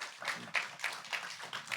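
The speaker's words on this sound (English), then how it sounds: "please give one more round of applause for them" A quiet patter of scattered hand claps comes from a small audience at a Q&A celebrating John Singleton, applauding guest experts. The claps fall in uneven bursts, slightly distant and soft.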